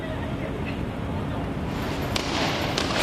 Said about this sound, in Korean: 계속해서 경찰의 최루탄 소리가 쉴 새 없이 들리고 있고요